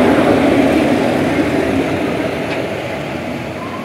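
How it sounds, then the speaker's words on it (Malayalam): Loud, steady rumble of a train pulling into a railway station, a continuous low roar that eases off slightly toward the end, with no talk over it. "ഗൈസ് നമ്മുടെ ട്രെയിൻ"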